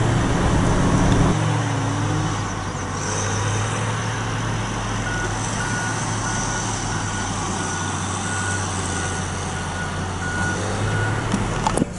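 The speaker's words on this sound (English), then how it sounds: "Watch them load this truck real quick." A truck idles with a steady engine drone while big trees are loaded onto it. A reversing beeper pulses repeatedly in the background of ongoing machinery noise.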